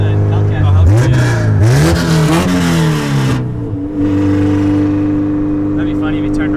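A Dodge Hellcat revs hard and passes nearby, a loud engine climbing and falling through several gear changes before settling into a steady drone, with voices talking over it from inside a car.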